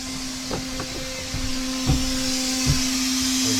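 Compressed air at about 40 psi blowing out the water lines of a travel trailer during winterizing, a loud steady hiss and hum with a few brief sputtering pulses, close and continuous throughout.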